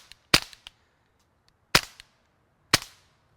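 Three sharp, muffled rimfire shots from a suppressed gun, spaced about a second apart, each with a faint click and short decay, otherwise quiet.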